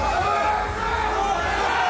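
Crowd noise at the Sabantuy belt wrestling world championship in Minger, a dense, steady roar of spectators cheering and shouting close by for the whole stretch, with voices mixed into the din.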